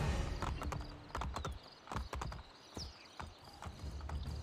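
Rhythmic clip-clop of horse hooves at a gallop in a video game, crisp and steady, with a faint whinny.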